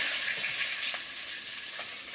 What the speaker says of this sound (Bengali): কড়াইয়ে আবার একটু তেল দেবো, অল্প। তেলের মধ্যে একটুখানি পাঁচ ফোড়ন দেবো